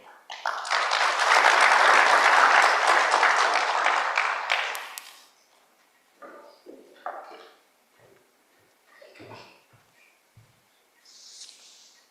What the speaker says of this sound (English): Please, applauding.